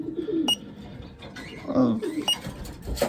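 Racing pigeons returning from a training flight coo softly nearby, with low throaty calls and a few sharp clicks and rustles mixed in.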